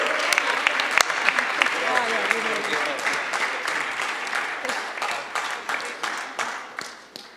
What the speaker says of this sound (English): just give a big round of applause again for the young adults.